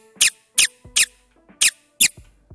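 Footstep sound effects from a Godot game fire as five short, sharp, evenly spaced steps, crisp and close, with silence between them.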